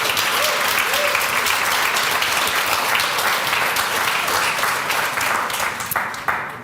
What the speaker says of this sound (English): since we like to clap a lot, or you like to clap a lot